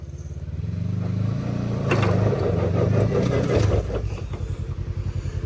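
Kawasaki four-wheeler on 35-inch tires with an RNG clutch kit, its engine revving and straining while pulling a forklift, loud and near with a rising then pulsing throttle.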